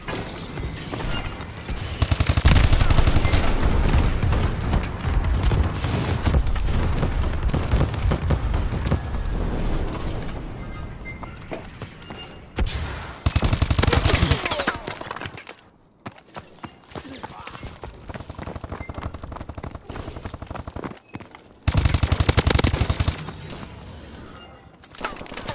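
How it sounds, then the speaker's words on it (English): Friendly bombing-run airstrike in Call of Duty: Advanced Warfare team deathmatch, a dense rumbling barrage of explosions in long sustained waves, loud and broad, with brief lulls between blasts. "Friendly bombing run clearing the way!"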